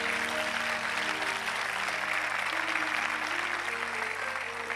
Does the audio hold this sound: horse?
no